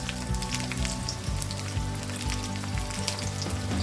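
Shallots sliced lengthwise fry in hot coconut oil, a dense, close crackling sizzle with rapid popping spatters that holds steady from start to finish.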